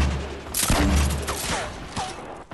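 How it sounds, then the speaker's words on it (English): Gunfire in the Fortnite battle royale game: a dense burst of shots, then scattered single reports and rattles over busy game effects, steady and fairly loud throughout. "Help him shoot. You too, Derek. Build high and shoot too, Derek."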